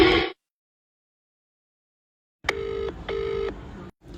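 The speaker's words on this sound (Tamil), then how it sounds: "இரு பசங்களை யாருன்னா ஃபோன் பண்ணி பார்க்கலாம்." Push-button phone keypad tones sound as a number is dialed: two clear electronic beeps, each about half a second, with a short gap between them. Silence comes before them, and they are close and moderately loud.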